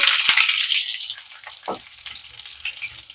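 Mustard seeds, cumin and moong dal frying in hot oil in a pan for ridge gourd curry, a loud steady sizzle with crackling pops and a brief stir partway through, no talking.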